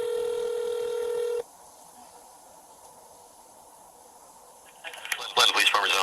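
A telephone call to a police precinct begins with a steady, clear tone that cuts off into quiet line hiss, and a voice comes on at the end.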